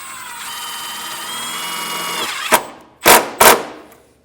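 A power drill drives a self-tapping screw into a 2015 Dodge's pinch weld, a steady high whine for over two seconds that cuts out and is followed by three sharp, loud bursts as the screw bites and seats.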